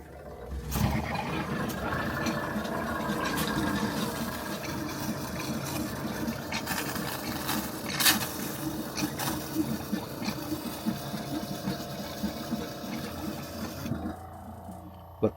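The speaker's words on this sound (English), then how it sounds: "Let the pump pressure up." Inside a Chevy Express camper van build, a small water pump hums and churns steadily as it builds pressure, close and fairly loud, while someone talks over it before it cuts off near the end.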